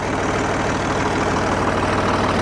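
A Ford 4000 tractor engine, just fixed after generator and voltage regulator repair, idling close up with a steady, loud, even diesel chug that never varies.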